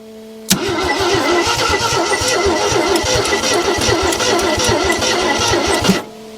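A 1974 AMC Javelin engine cranking over, a rhythmic starter whir and chug lasting several seconds without catching, loud and close, stopping abruptly.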